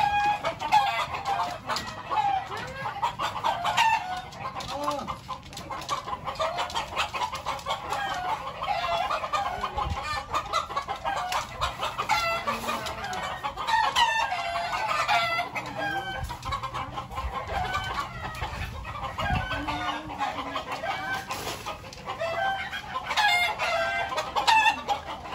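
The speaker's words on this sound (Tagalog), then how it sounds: "Daing manok nila, oh." Chickens cluck steadily throughout, with a rooster crowing now and then over a busy outdoor background of many birds.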